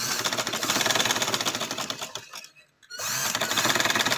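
A sewing machine stitches lace along the edge of a summer kurti boat neck, running in a fast, steady mechanical rattle that stops briefly for about half a second, then starts again.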